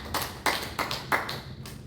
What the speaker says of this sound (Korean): 우리 하나님께 모든 영광의 박수로 올려드리겠습니다